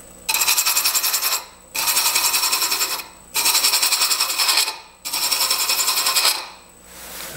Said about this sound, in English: I'm just at the very end of chasing my female thread